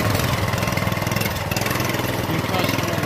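A custom mini bike's small engine idles with a new exhaust, a steady rapid putter that stays loud and close for a few seconds, recorded outdoors in the dark and rain.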